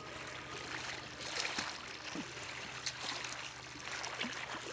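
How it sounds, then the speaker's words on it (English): Paddling on open water while lying on an electric foil board, with faint gurgling and trickling splashes in uneven strokes. The sound is soft and close, with no voices over it. "then I'm going to paddle too slowly"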